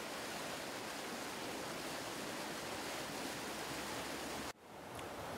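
River water rushes at a fish pass at the bottom of a river reach, a dense, even roar of flowing water that fills the scene, close and steady, briefly cutting out near the end before resuming.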